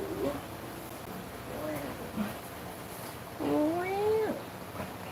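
A cat meows a few times indoors, with one longer, drawn-out meow near the end, while a person talks quietly and there is a faint low background hum.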